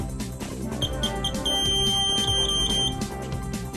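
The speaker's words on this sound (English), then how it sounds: "If an error occurs, LED and buzzer indications inform you of the type of error." A CT-S2000 printer's error buzzer beeps steadily in a rapid repeating pattern over a dense background of machine noise.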